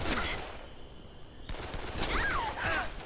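Gunfire in the zombie video game Dead Island, with bursts of shots cracking over a noisy game soundscape, a pause around the middle, then more shooting mixed with other effects.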